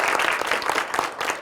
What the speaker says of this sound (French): Est-ce que vous pouvez applaudir pour vous-même?